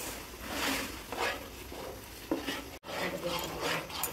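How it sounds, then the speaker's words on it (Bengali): Spices and milk skin being stirred and sautéed in a pan for a chicken roast, with a steady scraping, stirring rustle and soft sizzle; one brief clink of a utensil midway, no talk. "মশলাটা এইভাবে কষে নেওয়ার পর ভাজা মুরগি তুলে দেবে"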